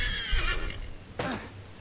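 A horse in the video game Assassin's Creed III Remastered whinnies loudly up close, a long shaky neigh, followed by a sharp snort-like burst about a second later.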